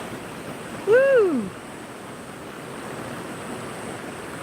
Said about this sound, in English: I don't want to be going down the river because the Rogue is pretty mighty, especially over there in those rapids.